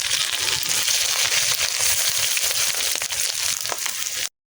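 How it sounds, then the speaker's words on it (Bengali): Egg-coated fish fritters fry in oil in a pan over a low flame, giving a steady, close, loud sizzle and crackle that runs without a break for about four seconds and then stops abruptly. "এবার চুলার আঁচ লোতে রেখে আমি আস্তে আস্তে উল্টে পাল্টে ভেজে নেব।"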